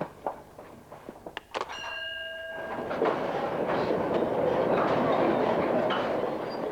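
A coal mine train runs on rails, starting with a few sharp metallic clanks and a ringing screech, then building into a continuous loud rumble of wheels and rattling wagons that carries on to the end.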